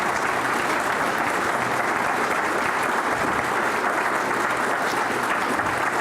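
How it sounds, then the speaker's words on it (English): A lecture audience gives a big round of applause for two speakers, Dr. Hennessy and Dr. Berlin; loud, dense, continuous clapping from a crowd, unbroken across the whole span. "Let's give them a big round of applause"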